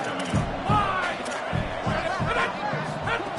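Stadium crowd at a Clemson college football game, a loud sustained roar of many voices with rhythmic swells, heard from a distance beneath an announcer calling the play.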